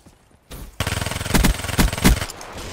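Call of Duty: Black Ops 3 multiplayer gunfire. Near-silence gives way to a long, loud burst of rapid automatic fire with several heavier shots punching through, then trails off.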